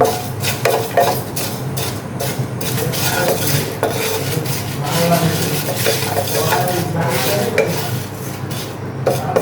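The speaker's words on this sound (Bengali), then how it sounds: "শুকনো উপকরণ দিয়ে এবার আমি ভালো করে ভাজি করে নিব।" Dry spices fry in a pan with steady scraping and clinking as a utensil stirs them against the metal, a busy, continuous rattling close up with a faint sizzle underneath.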